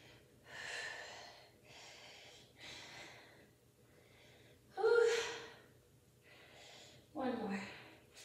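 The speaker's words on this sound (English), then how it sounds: "You can hear my heavy breathing." Heavy breathing from a woman working out, a series of audible breaths, sharp exhales and gasps at uneven intervals, close and moderately loud.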